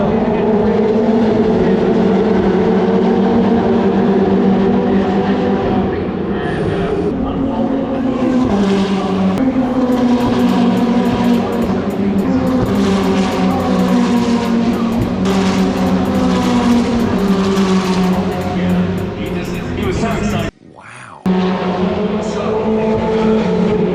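Ferrari Challenge race cars roar past on a North American circuit, loud sustained engine howls with shifting pitch and layered cars, briefly dropping out near the end.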